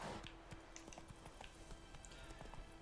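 Horse hooves galloping in The Witcher 3, a steady run of quick thudding hoofbeats at moderate distance, fairly quiet under faint game ambience with no talk.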